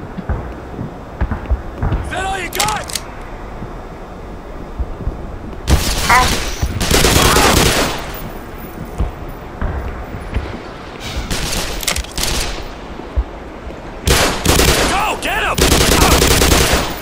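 Gunfire in Black Mesa, in the Surface Tension chapter: loud bursts of rapid automatic fire with booming, rumbling blasts, coming in several heavy waves with someone talking between and under them.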